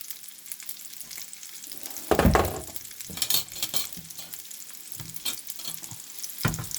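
Asian pork balls fry in oil pooled to one side of a tilted pan on a stove, giving a steady close sizzle with a few louder crackling bursts and the odd stir. No one speaks.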